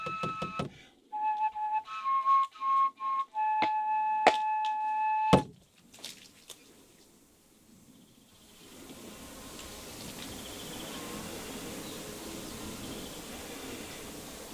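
A mosquito flies in a quiet room of an abandoned village house kept as a living museum. Its thin buzzing tone wavers on and off among a few sharp knocks, then gives way to low background hum.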